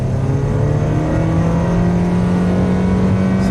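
A Chevrolet HHR SS Turbo that will not upshift, accelerating with a loud, steady engine drone that slowly rises in pitch while the gear stays the same, heard from inside the car with no talking.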